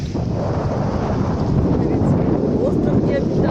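Strong cold wind buffets the microphone by the sea near a stone promenade, a dense, steady low roar throughout.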